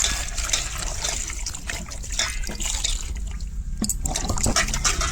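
Soaking water being poured off radish pieces in a home kitchen, a steady close splashing and trickling stream lasting several seconds with no voices.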